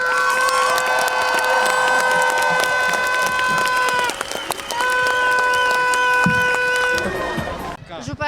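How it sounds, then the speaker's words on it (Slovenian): A crowd cheers at a civic reception in Radovljica for Peter Prevc, winner of two medals. The dense, sustained crowd noise runs throughout with steady sustained tones mixed in, then thins out near the end. "Jaz mislim, da si Peter zaslužen velik aplavz."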